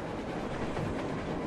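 A steam locomotive in the Metro Exodus game rolls past as a steady, loud rumbling rush of wheels and machinery filling the whole moment, with no voices.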